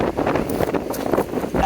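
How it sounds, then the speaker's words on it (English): Wind buffets the microphone at an outdoor parkrun by Yeldulknie Weir near Cleve, a continuous close, loud rumbling gust with no talk. "It is a little windy."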